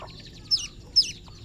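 Two short, sharp chicken clucks sound about half a second apart against a quiet background, close and clear.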